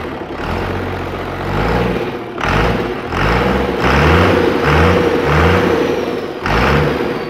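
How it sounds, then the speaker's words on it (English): A Cummins diesel engine fitted in a Land Rover Defender revs up in repeated loud surges with a rumbling idle between them, close by and without talk. "Give her a rev up"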